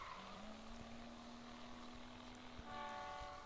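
A steady horn from an old camper van in a car video game blares for about three seconds at one sustained pitch over low engine rumble, then cuts off.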